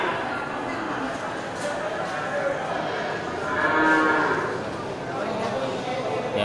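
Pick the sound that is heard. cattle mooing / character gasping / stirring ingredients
cattle mooing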